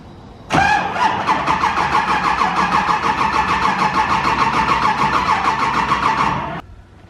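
A car engine cranks and catches at once, then settles into a loud, steady running note that continues for several seconds before cutting off. The engine has a patched cam sensor harness. No one speaks over it.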